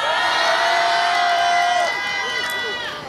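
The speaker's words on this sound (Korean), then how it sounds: "서로 격려와 응원의 함성 외치고 시작하도록 하겠습니다" A rally crowd lets out a loud, sustained collective shout of cheering that swells for about two seconds, then breaks into scattered whoops and voices as it fades.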